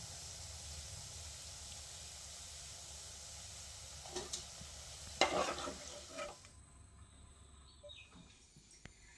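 Jackfruit appa batter frying in a pan gives a soft, steady sizzle, and a few stirring scrapes come up briefly in the middle before it settles back to a quieter hiss.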